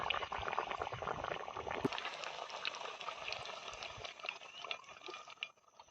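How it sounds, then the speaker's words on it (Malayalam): Batter-coated pineapple pieces fry in hot oil with a dense, continuous bubbling crackle, close and fairly quiet, fading slightly at the end. "അപ്പോൾ നമ്മളിത് പൊരിക്കാൻ വേണ്ടി പോവുകയാണ്"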